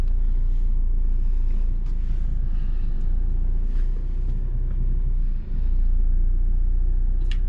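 A car slowly reversing into a parking bay, its engine a steady low rumble close to the microphone with wind buffeting throughout and no voices.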